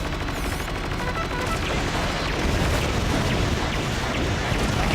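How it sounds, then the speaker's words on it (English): A tank turret fires in the Battalion Wars 2 video game amid a dense, continuous roar of gunfire and explosions, loud and unbroken throughout. "what's my turret doing? It's like firing backwards"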